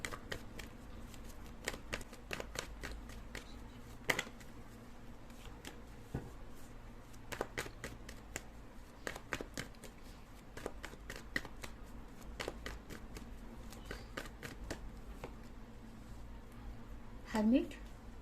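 Tarot cards riffled and snapped in quick bursts of crisp clicks, then slid and drawn from the deck during a Capricorn tarot reading; close but faint, with someone talking softly throughout.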